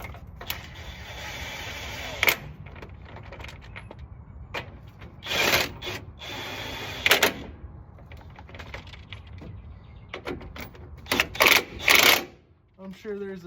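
A powered tool snugs down the steering gearbox bolts on a 2008 Silverado 3500HD 6.6 Duramax, sounding as several short mechanical bursts spread through the clip over a steady background, with a voice talking in places.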